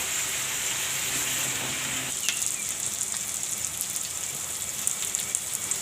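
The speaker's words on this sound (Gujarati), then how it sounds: "હવે આપણે આને તેલમાં ચડવા દેવાના છે, હળદર મીઠામાં અને તેલમાં." Sliced bitter gourd and onion fry in oil with turmeric and salt, giving a steady, hissing sizzle that crackles evenly throughout and has no voices over it.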